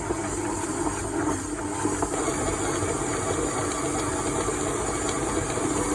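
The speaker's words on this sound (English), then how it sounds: "we'll start creaming our butter and sugar together. Start at a low speed always." Electric mixer creaming butter and sugar at low speed for a mawa cake, a steady whirring hum with faint scraping texture, close and continuous without talk.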